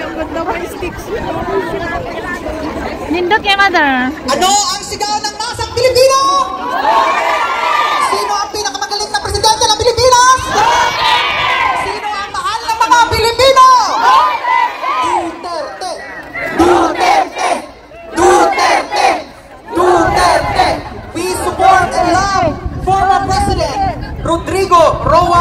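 A large crowd at a gathering in The Hague chants and shouts Rodrigo Roa Duterte's name in loud, rhythmic bursts, with cheering and babble between the chants.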